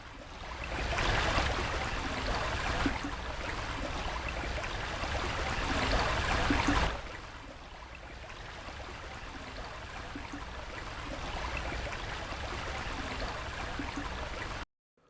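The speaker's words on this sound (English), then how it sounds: "the audio source updates as I move the camera along our imaginary river" River water flows steadily and continuously, close and moderately loud at first, then noticeably quieter after a change partway through, with no voices.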